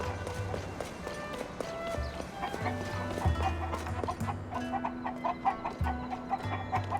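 Chickens cluck in Tears of the Kingdom's Ring Ruin Village over the game's music and footstep-like patter, several short clucks scattered through the run, with a voice briefly heard.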